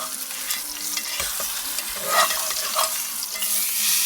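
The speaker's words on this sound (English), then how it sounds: "Oh yeah, starting to get a good sear." Food searing on a grill during a camping trip, a steady close sizzle with occasional scraping and light clunks of a press being handled.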